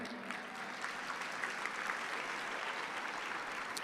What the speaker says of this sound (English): Everybody, please round of applause for Renee.